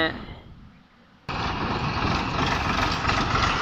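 Several tractors running on a road construction site for a temple access road, a steady loud engine drone that cuts in abruptly after a quieter start and continues without a break.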